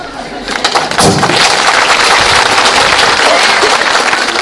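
A crowd at a local election information meeting bursts into loud, sustained applause for the neighbourhood headman candidates, thick clapping swelling after a second and continuing steadily.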